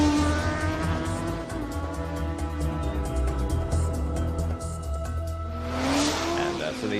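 A car in an animated cartoon speeds off with engine revving, tire squeal and skidding, the sound swelling near the end over a steady bed of background music and effects.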